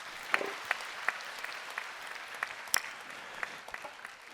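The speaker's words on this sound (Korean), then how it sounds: "우리 수고하는 청년들 박수로 한번 격려해 주시기 바랍니다." A church congregation applauds to encourage the young people, sparse distinct claps over a soft murmur of continued clapping, moderately loud and without speech.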